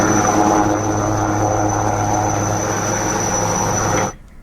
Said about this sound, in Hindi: किस तरह से हेलीकॉप्टर के जरिए जवान इस उफनती नालों में वहां उतरती है